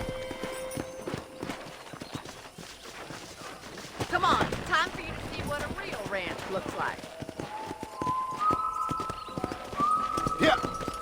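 Horse hooves clip-clopping while riding in the Red Dead Redemption video game, a rhythmic trot heard under a man's spoken line, with game music tones rising toward the end.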